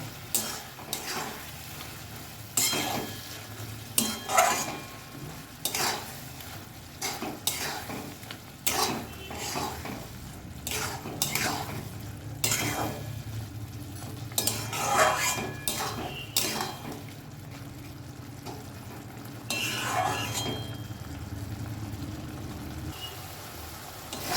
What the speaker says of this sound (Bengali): এবারে ভালো করে এটাকে আমি নাড়াচাড়া করে করে জলটা শুকিয়ে নেব